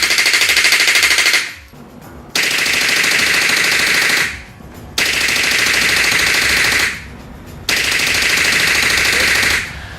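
Suppressed 9mm submachine gun, cycling at 600 to 800 rounds per minute, fires four long sustained bursts separated by short pauses, loud and close with no talking.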